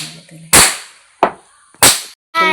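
Deepavali firecrackers burst outdoors in three sharp, loud bangs spaced about half a second apart, each with a short fading tail, followed by a brief harsh crackle at the end.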